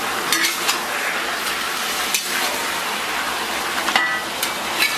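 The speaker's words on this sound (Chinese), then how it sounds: "五花咱们煸炒差不多啊" Pork belly stir-fried in a wok with scallion, ginger and garlic gives a steady, bright sizzle, broken by a few metal clinks and scrapes of the spatula against the pan, close up and without speech.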